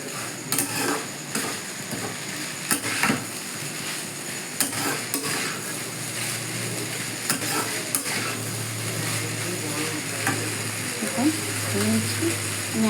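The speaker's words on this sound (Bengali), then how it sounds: "দেখুন আঁচটা একটু জোরে দিয়ে আমি একটু 5 মিনিট হতে দেবো।" Food cooking in a pan over high heat with sauce nearby, a steady sizzle running throughout with occasional clinks and scrapes of utensils against the pan.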